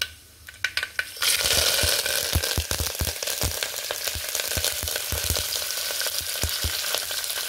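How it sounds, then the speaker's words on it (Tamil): After a few scattered crackles, mustard seeds and urad dal sizzle and fry in hot oil, with a constant hiss broken by frequent sharp pops and spatters. "எண்ணெய் நல்லா கொதிக்க வச்சுட்டு கடுகு உளுந்தம் பருப்பு,"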